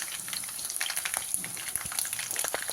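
Hot oil tempering for gram-flour khaman sizzles close up as asafoetida is dropped in: a steady bright frying hiss with scattered crackles and pops, and no talking.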